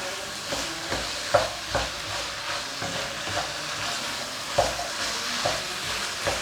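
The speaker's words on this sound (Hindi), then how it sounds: "मटर और हमारी गाजर जो कि पक के रेडी है, अब इसको और भून लेंगे" Peas and carrots fry in a pan with a steady sizzle, broken by repeated scraping clicks of a spoon stirring them at an irregular pace, all fairly close and without any voices.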